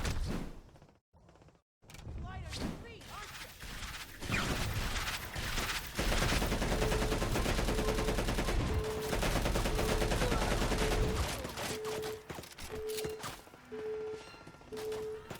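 Loud, sustained gunfire from the Xbox 360 game Crackdown 2: dense bursts and rapid automatic fire, broken by brief gaps, with a heavy continuous stretch in the middle and a repeating electronic tone running under the later shots.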